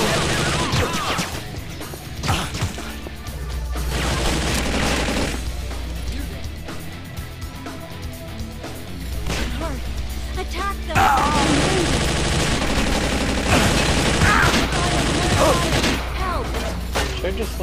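Gunfire in the video game Infernal, loud bursts and crashing volleys that return in waves over a steady low drone, mixed with game character dialogue and a player talking.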